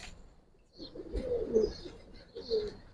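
Close, soft cooing of Bagha and Silver giribaj pigeons, two low throaty coos a second apart, fairly quiet against a still background.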